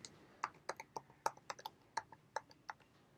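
Keystrokes on a computer keyboard as a password is typed during a Windows Server install, about a dozen crisp, close clicks in an uneven rhythm with brief gaps, alone and without talk.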